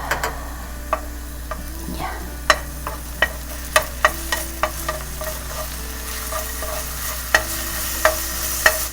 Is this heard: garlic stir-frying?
yes